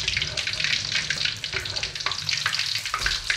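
Continuous crackling sizzle of fish frying in a hot pan, steady and close, with small pops and spatters throughout.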